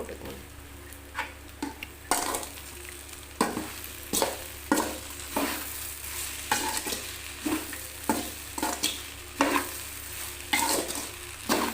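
Okra and rice sautéing in a pan for fried rice, with a spatula stirring and scraping in repeated strokes over a steady, soft sizzle, close by with no talking.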